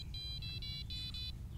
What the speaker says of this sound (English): the notorious ND jingle